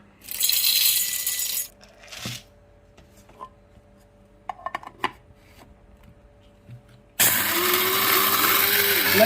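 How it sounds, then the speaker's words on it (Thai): A loud, steady whirring automatic coffee grinder runs in two bursts, a short one at the start and another at the end, with light clinks and taps in the quiet between. "เครื่องปั่นแบบอัตโนมัติ"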